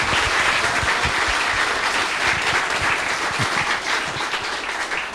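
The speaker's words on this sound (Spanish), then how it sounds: "vamos a regalarle un muy fuerte aplauso, por favor" Audience at a university talk applauding steadily, a dense wash of many hands clapping at an even level throughout.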